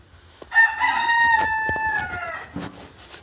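A rooster crows loudly nearby in one long drawn-out call, with a few clucks and rustles from native black-and-white speckled hens and other chickens around it.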